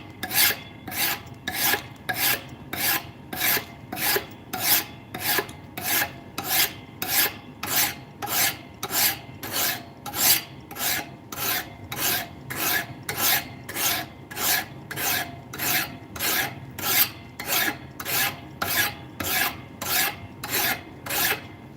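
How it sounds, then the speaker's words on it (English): Steady, rhythmic strokes of a file shaping a knife blade, each rasp a bright scraping burst repeated evenly about every half second, close and alone without talk. "Remember, we're just shaping our blade here."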